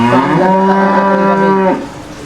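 A Holstein Friesian dairy cow on a farm gives one long, loud, close moo that holds steady, then stops abruptly and leaves quiet background.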